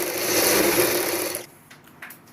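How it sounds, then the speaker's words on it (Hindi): A sewing machine runs steadily while stitching the buckram-lined neckline of a choli blouse, a continuous close whirr lasting about a second and a half before stopping, leaving faint handling clicks. "इसी तरीके से हम इस साइड भी एक सिलाई लगा के बुकरम वाला गला कंप्लीट करेंगे"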